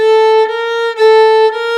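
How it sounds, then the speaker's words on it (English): A steady electronic tone switching back and forth between two pitches a half step apart, with short breaks where the note changes. "This is a half tone."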